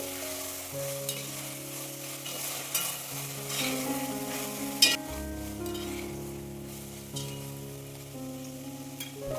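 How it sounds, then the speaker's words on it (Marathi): Egg curry masala with green coriander roasts in oil, sizzling steadily while a spoon stirs and scrapes the pan in irregular strokes, with soft music playing underneath. "मसाला तेलामध्ये छान भाजून घ्यायचा त्यामध्ये आपण हिरवी कोथिंबीर घालणार आहोत आता हे छान आपण भाजून घेऊया"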